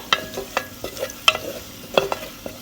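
Onion, garlic and ginger-garlic paste sautéing in a pan for a Maharashtrian mixed vegetable bhaji, with a soft steady sizzle broken by repeated scraping stirs of a spoon at an irregular rhythm, close and moderately loud, no talking.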